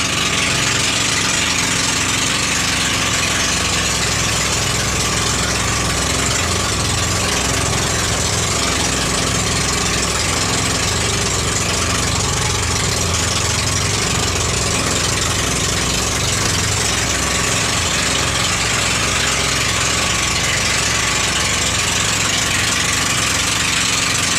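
A motorboat engine on a river in Palawan, Philippines, drones throughout, a continuous low rumble with a broad hissy wash over it, running without a break and fairly loud.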